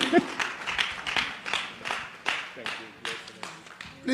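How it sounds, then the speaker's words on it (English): An audience at an evening event applauds keynote speaker Peter Obi with a steady wash of clapping, its rhythmic peaks rolling on for several seconds at moderate distance. "Ladies and gentlemen, can we give a round of applause to His Excellency Mr. Peter Gregory Obi?"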